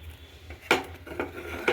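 A spoon scrapes and knocks against a pot while kheer is stirred, giving a few short, close clinks and scrapes over a low background hum.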